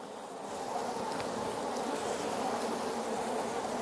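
A dense, steady buzzing of many honeybees comes from close by as they are shaken from a hive frame into a jar. It swells slightly at the start and then holds even.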